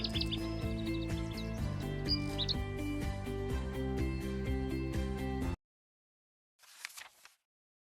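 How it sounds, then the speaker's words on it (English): Birds chirping in short, bright calls over a busy backdrop of music, then a brief isolated flutter of tweets after a moment of silence. "Birds."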